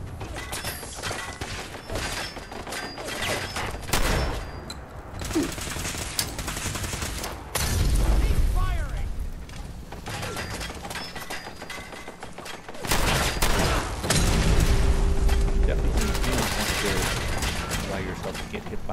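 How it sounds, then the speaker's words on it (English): Grenade blasts and rapid gunfire in the video game Fallout 4, with loud bursts of shooting and heavy booms at several points, some mechanical clatter mixed in. "Grenades."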